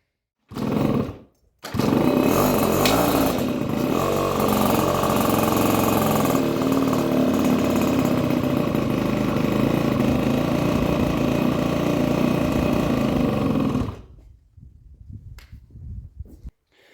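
A Honda scooter engine, freshly fitted with a new barrel and piston, sputters briefly, then catches and runs at a loud, close, rough idle for about twelve seconds before cutting out, followed by quieter mechanical clatter.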